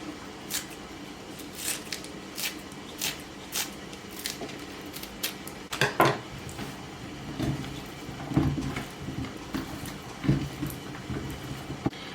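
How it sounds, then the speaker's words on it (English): Green onion being chopped with a knife in a kitchen, a series of quick, evenly spaced taps on a board, followed by a denser burst of cutting and scraping. "And then I'm gonna cut in some green onion."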